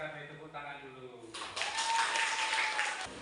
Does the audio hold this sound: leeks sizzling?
no